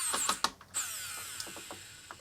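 Screws being driven into a Commodore 128D case, a series of short ratcheting clicks and scrapes, close and fairly quiet, with brief gaps between turns.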